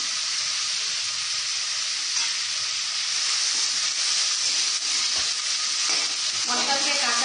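Spices fry in hot oil in a pan for khichuri, a steady loud sizzle with stirring scrapes running throughout, close and continuous without speech.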